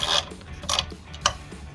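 A ratchet works a bolt loose on a Honda CR-V, giving a few short rasping clicks in separate bursts, close and fairly quiet, with no voices.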